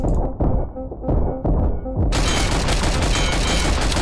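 Dense gunfire from the video game Karlson: a few separate bursts and thuds, then a continuous, loud roar of rapid shots filling the second half.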